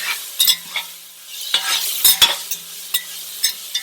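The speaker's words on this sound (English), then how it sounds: "Let them saute for a bit." Black beans, Caribbean style, sauté in a pan, a soft sizzle beneath repeated close scrapes and clinks of a spoon stirring against the pan, with no talking.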